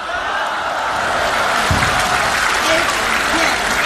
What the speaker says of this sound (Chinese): 掌声出来